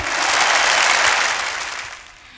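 A school reunion audience gives a big round of applause for a female singer, the dense clapping loud and steady before tapering off toward the end.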